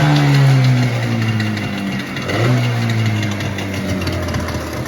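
A freshly started Seawalker outboard boat motor idles close by, a steady throbbing engine note that dips and swells slightly as the revs waver.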